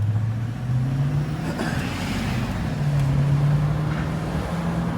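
A Toyota Tundra pickup, not fitted with a small turbocharged six-cylinder, drives along with a steady, close engine drone, its low tone rising and falling slightly under continuous road and cabin noise.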